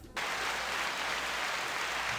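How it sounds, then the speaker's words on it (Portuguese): Steady applause for a guest on a Portuguese-language podcast set, starting abruptly after a brief quiet moment and holding as an even, dense wash of clapping. "Aplausos para ela."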